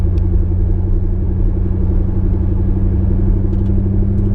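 Steady, loud low-pitched engine rumble and road drone from inside a car on a test drive, droning continuously with no breaks or changes in pace.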